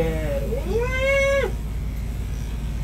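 An aggressive, distressed cat lets out a single drawn-out, rising-and-falling meow-yowl, loud and close, then quiet background hum follows.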